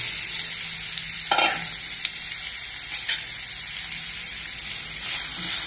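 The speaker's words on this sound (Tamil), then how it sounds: "அப்புறமா அந்த வெட்டி வச்சிருக்கிற வெங்காயத்தையும் சேர்க்க போறேன்." Chopped onions sizzle and fry in hot oil with clove, cardamom and cinnamon, a steady soft crackle broken by a few stirring scrapes and clinks, quiet and close with no talking.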